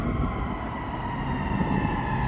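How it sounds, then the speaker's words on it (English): A continuous wailing emergency vehicle siren drones steadily through the whole stretch over a dense city rumble near Millennium Park in Chicago, with no voices. "I'm talking over the sirens here."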